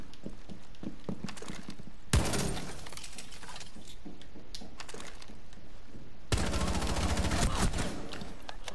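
Two sharp bursts of rapid gunfire in the tactical shooter game Rainbow Six Siege, each a loud sustained volley, separated by quieter stretches of footsteps and game ambience.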